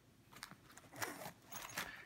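Zipper opening on a Maxpedition FR1 emergency kit pouch: quiet, close raspy zipping in a few short pulls with brief pauses between them, no voice over it.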